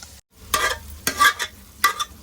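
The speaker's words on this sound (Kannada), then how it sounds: "ಎಣ್ಣೆ, ಈರುಳ್ಳಿ, ಸಾಸಿವೆ, ಕರಿಬೇವು ಎಲ್ಲ ಹಾಕಿ ಫ್ರೈ ಮಾಡ್ಕೊತಾ ಇದ್ದಾರೆ" A tempering of onion, mustard seeds and curry leaves fries in hot oil, with crackling sizzle and three distinct bursts of stirring scrapes at close range, without speech.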